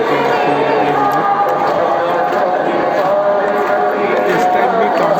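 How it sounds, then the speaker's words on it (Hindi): A busy crowd murmurs during an aarti prayer ceremony at a Balaji temple, with steady dense chatter and commotion filling the space close around, loud and continuous without pauses. "ये बालाजी की आरती हो रही है अंदर"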